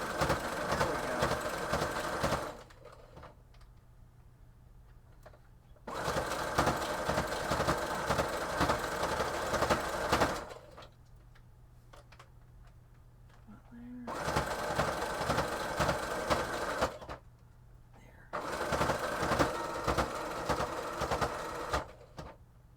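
A sewing machine stitches an ear into place in four loud, rapid, whirring bursts of several seconds each, separated by quiet pauses with only faint background hum.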